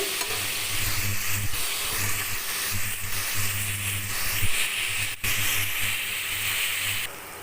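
Shredded cabbage sautéing in oil in a pan for cabbage chutney, a steady close sizzle with scraping stirs through the whole stretch, no talking.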